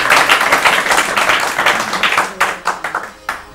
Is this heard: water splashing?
no